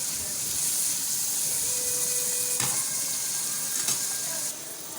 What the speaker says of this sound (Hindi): इसमें किशमिश शामिल करके इसको भी इसके साथ फ्राई कर लेंगे